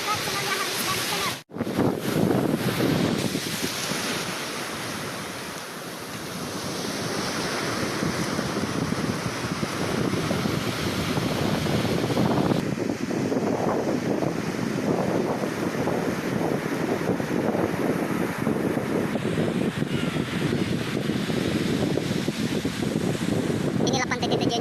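Ocean waves and strong wind at Tetejenya beach, a continuous loud roar of surf with heavy wind buffeting the microphone throughout.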